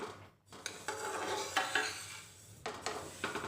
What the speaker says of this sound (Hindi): सभी को हम एक साथ भून देते हैं।